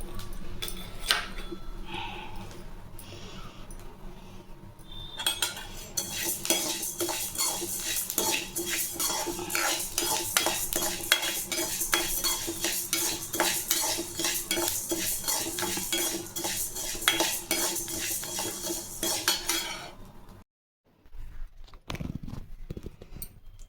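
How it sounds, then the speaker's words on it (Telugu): Flax seeds, red rice and urad dal roasting in ghee, a dense rattling scrape of a spoon stirring grains against a metal pan, steady and close for most of the stretch before a short break and resumption. "అవిసె గింజలు, ఎర్రబియ్యం, మినప్పప్పు కొంచెం నెయ్యిలో వేయించుకున్నాను."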